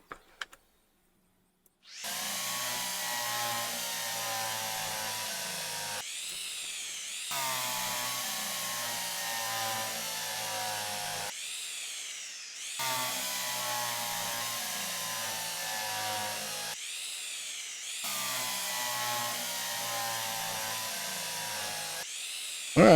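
A power drill in the train game Derail Valley whirs in four long bursts with short gaps between them, loud and near, with no voices.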